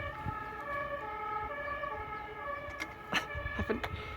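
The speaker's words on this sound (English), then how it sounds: "there's a cacophony of noises, sirens and traffic." An emergency vehicle siren wails in a town with traffic, a steady multi-tone siren held over a low road rumble, with a couple of brief louder knocks near the end.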